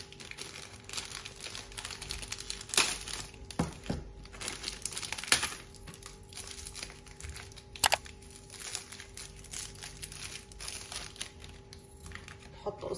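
Plastic wrapper of a Kinder chocolate torn open and handled, giving quiet crinkling and rustling with a few sharp crackles and snaps spread through the clip.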